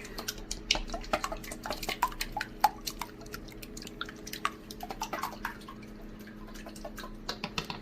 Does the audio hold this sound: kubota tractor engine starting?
no